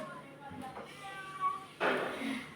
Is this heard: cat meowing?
yes